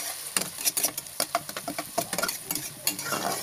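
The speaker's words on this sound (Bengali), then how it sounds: "পেঁয়াজটা যখন একটু ভেজে লমু" Chopped onions frying in a pan for a buffalo meat curry, with quick irregular scraping and stirring strokes over a soft sizzle, close and fairly quiet.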